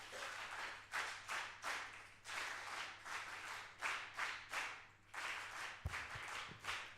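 An audience claps in a run of rhythmic bursts of applause, fairly close and steady, before a few heavier thumps near the end.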